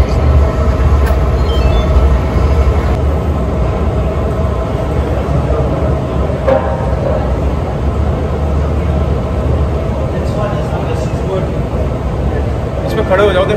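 A train running at a Paris inter-city rail station, a loud steady rumble and roar filling the scene throughout.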